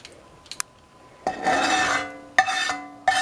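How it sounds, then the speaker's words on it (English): A spoon scrapes filling out of mirlitons in sharp bursts, a few brief clicks first and then three longer rasping scrapes of metal against the hollowed vegetable, close and fairly loud with no voices. "I'm sorry if this scraping hurt your ears"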